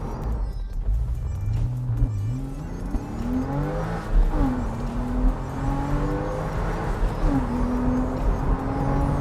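A Porsche 911 Carrera S passes on a race track several times, its engine revving up and down through gear changes as it approaches and recedes, heard from trackside under steady wind noise.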